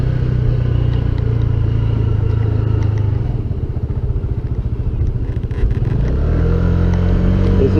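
An old, high-mileage Honda PES 125 motorcycle being ridden, its engine droning steadily and loudly close by, with a rhythmic pulsing note mid-ride before settling back into a smooth hum.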